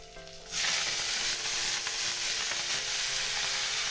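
Steady, loud sizzling of garlic and kharkol leaves frying in hot oil, rising abruptly after a quieter start and continuing as a dense crackling hiss.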